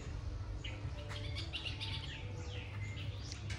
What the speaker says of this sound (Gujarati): જો મિત્રો અહીંયા આપણે ચકલી પણ છે,